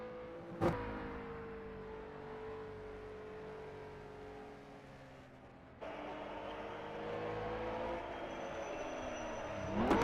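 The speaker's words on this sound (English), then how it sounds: "Currently looking at Dion Hansen in the Aston Martin with the uphill hairpin" An Aston Martin race car working through an uphill hairpin on the Isle of Man time trial course, engine droning with shifting pitch as it slows and then pulls away, a sharp transient near the start.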